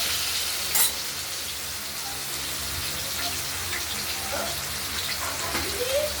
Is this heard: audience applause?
no